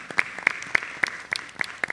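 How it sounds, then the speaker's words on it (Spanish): A small church congregation at a Sunday Mass claps for Stephanie's birthday, with sparse, fairly even individual claps landing roughly every quarter second, close and moderately loud. "Vamos a dar un aplauso a Stephanie"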